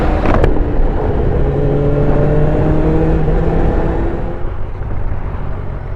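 A QJMOTOR 600RC motorcycle with an inline-four engine revs loudly at close range, a steady rising drone that slowly fades, following a brief sharp click at the start, with no talking.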